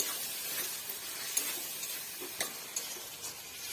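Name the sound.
stirring soy and tomato sauce in pan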